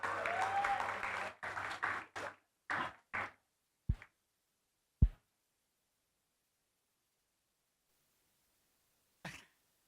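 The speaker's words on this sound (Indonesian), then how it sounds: "Boleh tepuk tangannya untuk Pak Rizky semuanya" A short burst of audience clapping for a moderator at a conference event breaks off within about a second. A few scattered single claps or coughs follow, then near silence.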